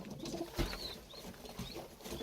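Tumbler pigeons coo softly nearby, low throaty murmurs under faint background noise, with one brief thump and a few thin higher chirps mixed in.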